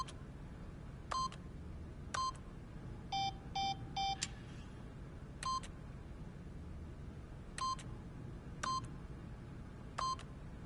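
Electronic keypad beeps from a video game as a PIN is entered, short single tones spaced apart with a quick run of three in the middle, clear over a low steady background.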